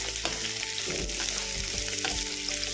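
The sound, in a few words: onions sautéing in a pan for paneer masala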